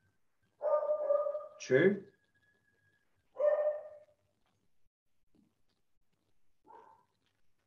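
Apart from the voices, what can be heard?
beagle barking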